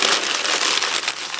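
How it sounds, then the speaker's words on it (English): A quarter sheet of paper being lightly crumpled by hand into a loose wad for the neck of a head armature, giving a dense, continuous crinkling rustle that stays close and steady throughout with no talking. "I'm going to lightly crumple this up."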